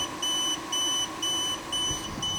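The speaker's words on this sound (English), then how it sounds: "Oh, and it's starting to beep, so it's going to shut itself down." A Growatt inverter under full load beeps in a steady series of five short, high electronic tones, evenly spaced over a low background hum.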